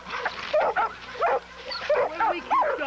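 Pit bull game dog in a kennel, straining toward its son nearby, giving a run of short, close yips and whining barks in quick repeated bursts.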